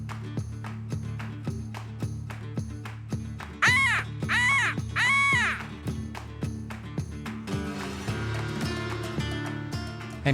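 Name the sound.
crow call imitation used to locate wild turkey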